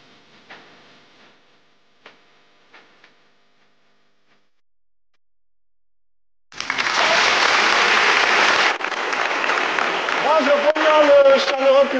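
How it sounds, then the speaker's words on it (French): A few faint taps in near silence, then a sudden burst of loud, sustained applause from a live audience at a traditional music show, continuing strongly to the end. "Merci de vous applaudir bien fort."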